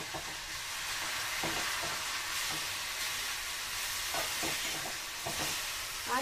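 A semolina sweet mixture with milk and food colouring is stirred in a pan, giving a faint, low sizzle with soft, scattered scraping strokes every second or so.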